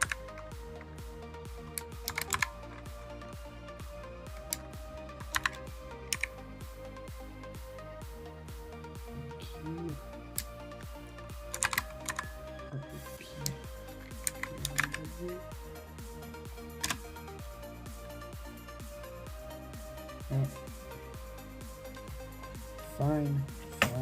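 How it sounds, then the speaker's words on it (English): Typing on a computer keyboard, a stream of quick clicky keystrokes with scattered louder taps, running under steady background music and occasional talk. "You guys get to enjoy typing ASMR while I do this, basically."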